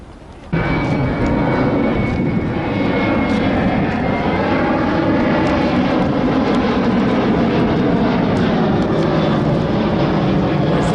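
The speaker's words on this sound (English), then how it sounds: "Damn airplane." An airplane flies overhead with a loud, steady engine roar that starts abruptly and stays continuous and close, drowning out other sound, with no voices.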